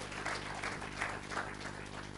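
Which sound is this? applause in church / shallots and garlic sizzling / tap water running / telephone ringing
applause in church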